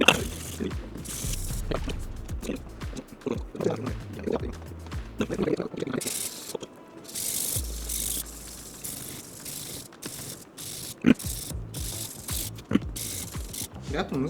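A single-edged knife is sharpened on a whetstone in repeated rhythmic scraping strokes, close and steady, with a voice talking quietly underneath.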